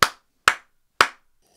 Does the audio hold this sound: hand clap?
yes